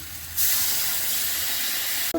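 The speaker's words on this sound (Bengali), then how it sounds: "আমি জল দিয়ে দিয়েছি।" Water is poured into a hot pan of cooked jackfruit and shrimp, setting off a sudden loud, steady hiss and sizzle that holds for about two seconds before it cuts off abruptly.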